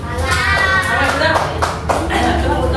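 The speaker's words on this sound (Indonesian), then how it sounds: "Tepuk tangan untuk kelompok 4." Elementary school children in a classroom clap for a winning group, a burst of close, loud, uneven hand claps mixed with lively children's voices and chatter throughout.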